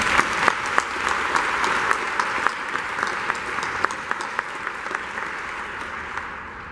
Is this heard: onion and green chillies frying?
no